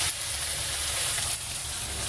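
Potatoes frying in a pan with spices about to be added, a steady close sizzle and hiss with no talk.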